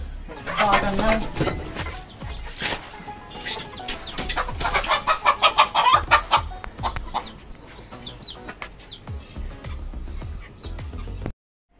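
Chickens cluck and squawk repeatedly, close and fairly loud, in busy bursts, with people talking intermittently among them.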